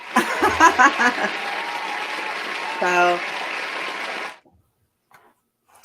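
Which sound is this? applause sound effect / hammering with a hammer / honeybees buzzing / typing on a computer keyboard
applause sound effect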